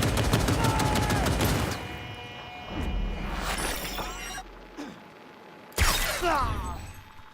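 Bursts of rapid gunfire with burning bullets in Cyberpunk 2077, with a dense volley at the start and later loud shots and impacts. Game voices and effects are layered in with the firing.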